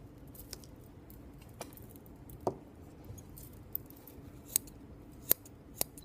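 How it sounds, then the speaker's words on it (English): Scissors snip the end of a ribbon in a quiet room: a few faint, sharp clicks spaced unevenly over a low background hiss. "cut the end of the ribbon"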